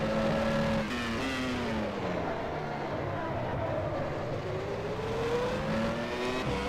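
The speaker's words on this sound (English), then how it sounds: "Try 4th gear there just to get a bit of engine braking." A 1996 Formula 1 car in rFactor 2 runs in 4th gear under engine braking at Magny-Cours, its loud, close engine whine falling and rising across several pitch sweeps without a break, with occasional tyre noise.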